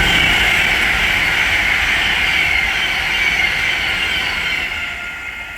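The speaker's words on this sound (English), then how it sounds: "And right there is the Avanti West Coast service from London Euston to" An Avanti West Coast service from London Euston passes Bletchley station on the West Coast Main Line, a loud, steady rushing roar with faint wheel squeal that holds throughout and then begins to ease.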